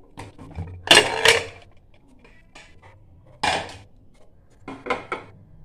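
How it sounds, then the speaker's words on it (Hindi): Clattering metal sounds of a pressure cooker lid being handled and opened after three whistles, cooking jackfruit curry, a few sharp bursts of clanks separated by quiet pauses, close by. "तीन सीटी हो गया है, कुकर खोल देंगे।"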